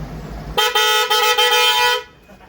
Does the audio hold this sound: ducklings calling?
no